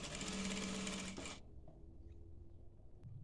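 Sewing machine stitching around the neckline of a dishdasha, a close, loud steady whir for just over a second, then stopping into quiet room tone with a faint click.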